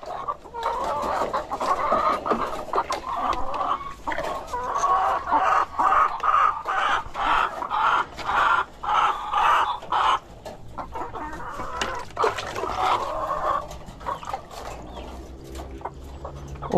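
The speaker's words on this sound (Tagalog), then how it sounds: "Uhaw na talaga yung mga manok ko mga kanoypi." A flock of thirsty backyard chickens clucking and chattering close by, dense overlapping clucks rising in busy rhythmic bursts and tapering off toward the end.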